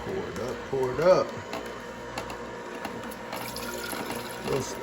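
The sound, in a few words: watermelon basil juice being poured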